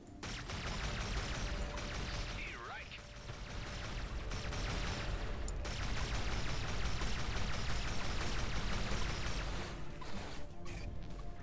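Sustained gunfire from ships in the space shooter game Everspace 2, forming a dense, loud wash of crackling blasts with a brief lull near the middle before it builds again.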